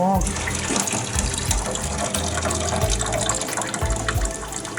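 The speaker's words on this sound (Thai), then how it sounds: "เทน้ำที่มันต้มมันฝรั่งออก" Water used to boil potatoes gushes out as it is poured, a close, steady splashing rush with bursts of heavier pouring and a bit of talk in the background.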